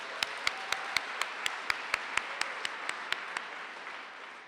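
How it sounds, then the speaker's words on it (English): Sparse, evenly spaced claps from a small audience at a civic forum ring out over a quiet room, fading after a few seconds. "Let's give them a round of applause as well."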